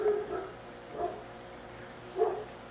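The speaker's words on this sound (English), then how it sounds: "Yes, it's your puppy outside." A puppy barks a few times outside in the distance, short muffled yaps spaced apart over a quiet indoor background.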